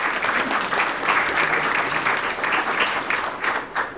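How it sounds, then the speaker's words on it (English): A room full of people applauds steadily, a dense wash of clapping that holds at an even level throughout. "Let's give her a big clap."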